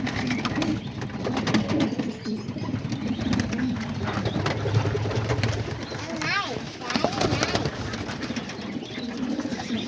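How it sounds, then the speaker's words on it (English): Pigeons coo in a backyard loft area, soft low repeated coos under a busy background of rustling, clicks and wing movement, with a person speaking in between. "Yeah, the pigeons are all out here."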